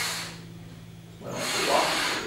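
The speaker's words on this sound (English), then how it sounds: "You can see right there that we can control that drill bit a whole heck of a lot better." A power drill bores a hole with a bit during installation of a spoiler conversion kit on a C7 Corvette; a steady motor whine gives way to louder, rougher grinding as the bit cuts in, close by with no talk.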